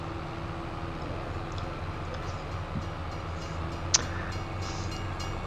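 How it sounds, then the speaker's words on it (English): A train rumbles past in Farming Simulator 22 with a steady, droning roar and a low hum, with no talking and a brief sharp click partway through. "Hey, choo-choo train."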